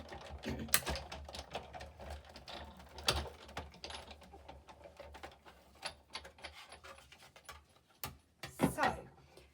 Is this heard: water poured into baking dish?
no